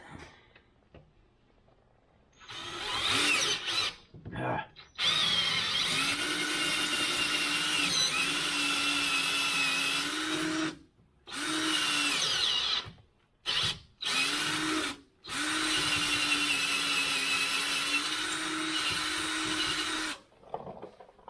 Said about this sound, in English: So we'll drill that hole out a little bit.